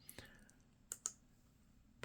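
An old ThinkPad X201 laptop keyboard gives a few sparse, crisp key clicks close by, separated by quiet gaps, ending with a louder thump.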